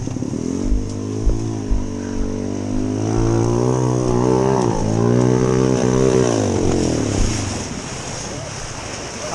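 A Kawasaki KLX dirt bike engine idles with a few sharp exhaust pops, then revs up and down in rising, falling surges before settling back to a low idle, on a muddy enduro trail.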